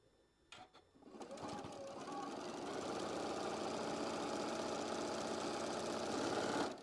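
A sewing machine stitches fabric down a quilt block, starting after a few handling clicks and then running in a loud, continuous, evenly rattling whir until it stops at the end.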